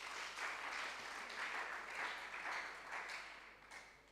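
An audience of secondary school students and guests applauds at a school debate competition, clapping in a sustained, moderately loud wave that swells and eases slightly, with no talking.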